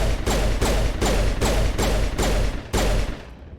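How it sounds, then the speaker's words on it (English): Pistol fire in the video game Mass Effect, a rapid series of about six or seven loud, sharp shots at an even pace, each with a brief echoing tail, close and with no talking over it. "Let's switch over to our pistol"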